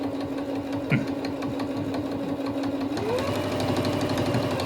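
A Singer sewing machine labors through material too thick for it, its needle hitting in a steady, rapid mechanical rhythm with a continuous motor hum, close and moderately loud throughout.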